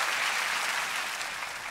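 A studio audience on a Korean music talk show claps steadily, a dense, loud wash of applause that holds evenly and eases off only slightly, with no voices standing out.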